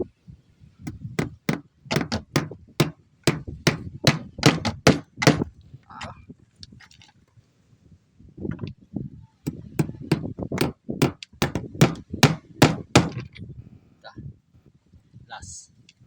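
Hammer blows on a wooden boat under construction, sharp repeated strikes in quick bursts of rhythmic hits with short pauses, close and loud, with people talking quietly between and under them.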